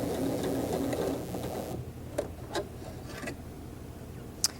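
A sewing machine edge stitching a hip pocket hums steadily for the first second and a half, then stops, followed by a few faint clicks and taps.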